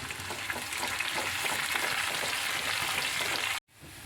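Curry leaves drop into hot oil for a tomato curry, giving a loud, steady crackling sizzle that runs without pause, then cuts out briefly near the end before a softer sizzle resumes.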